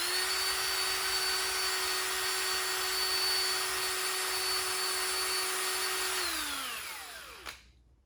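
A small rotary tool with a cup-shaped grinder grinds carbon off the valves of a Briggs engine, a steady high-pitched whine for about six seconds before it winds down and stops.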